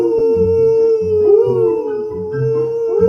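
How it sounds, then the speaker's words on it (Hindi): Foxes howling in the wild, a long sustained wavering howl with a few overlapping voices and short yips, close and loud with no talking. "तभी कुछ लोमड़ी चिल्लाने लगा।"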